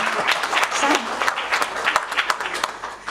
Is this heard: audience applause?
yes